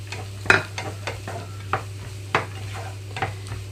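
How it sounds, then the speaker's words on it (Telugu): Carrot pieces are stir-fried in a pan after ginger-garlic paste, with a series of distinct utensil clacks against the pan over a faint sizzle and a low steady hum. "క్యారెట్ ముక్కలన్నీ వేస్తున్నాను"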